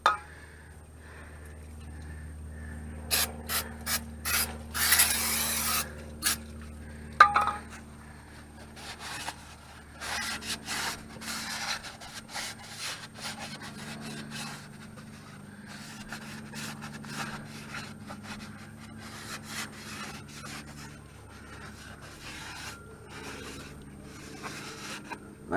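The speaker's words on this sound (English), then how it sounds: "take a little brake cleaner, spray that down, wipe it down with a clean rag or paper towel." Brake cleaner sprayed on a new clutch part for a 1978 Toyota pickup, with hissing spray bursts early on followed by a long stretch of quiet rubbing and wiping with a rag, plus light clinks.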